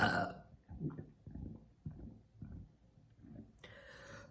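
A deep, throaty human burp rolls out in several low pulses one after another, fairly close and loud, with a brief higher burst right at the end.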